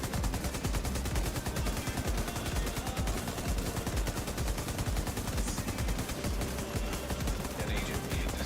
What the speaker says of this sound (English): I'm pulling out the M60 and just well on that guy without reloading